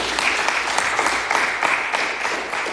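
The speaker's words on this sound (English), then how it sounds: "put your hands together and give yourself a bigger round of applause" Graduates at a skills training centre graduation ceremony give themselves a round of applause, a close, lively burst of many hands clapping with uneven, rippling peaks.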